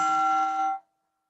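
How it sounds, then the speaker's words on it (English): A meditation bell rings once, a clear sustained metallic tone with bright overtones, heard alone in a quiet room and cut off after under a second. "So as we're hearing the sound of the bell"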